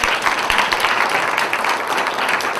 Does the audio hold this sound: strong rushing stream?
no